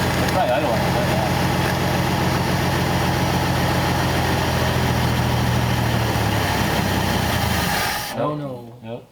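A Lincoln V12 engine idles with a steady, dense rumble for about eight seconds, then cuts out sharply, with a brief voice just after.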